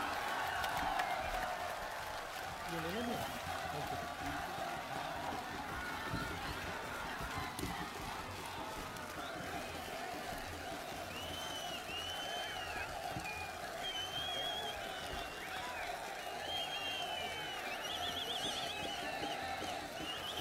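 Crowd at a National Conference election campaign rally standing and clapping to welcome Rahul Gandhi, steady dense applause with cheering, distant shouts and some whistles, continuous throughout.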